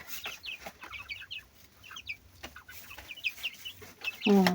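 Chickens cluck in short scattered bursts at moderate distance, with a louder squawk close by at the end.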